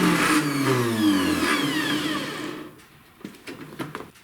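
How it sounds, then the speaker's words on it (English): Electric starter on a snowblower with a Tecumseh engine spinning freely without engaging the engine after sitting unused for a long time, a loud whirring wind-down that fades out, followed by a few faint clicks and clunks. "the starter won't engage again because the machine's been sitting for a long time"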